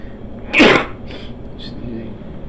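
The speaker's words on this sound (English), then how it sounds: "There was a sneeze." A single sharp human sneeze bursts out close and loud, followed by quiet background noise and a couple of faint soft sounds.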